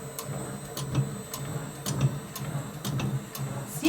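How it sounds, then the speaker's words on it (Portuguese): A Maqtiva DL8 savory snack forming machine running its mold, giving off a steady mechanical ticking and clunking in a regular rhythm, fairly quiet and close, with no talking. "Então agora a gente vai ligar o molde. E ele funciona assim."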